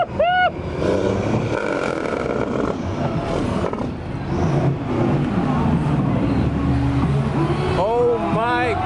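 A semi truck without a DEF system revs hard at a truck show drag race, its loud, sustained engine roar dominating throughout with crowd chatter and shouting voices mixed underneath.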